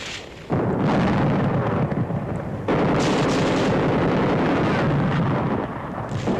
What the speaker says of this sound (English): Seizure of the ridge puts the airstrip and surrounding enemy positions under direct fire of our guns